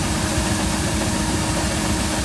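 A John Deere tractor engine runs steadily at an antique engine and tractor show, a loud continuous rumble filling the whole stretch with no talk.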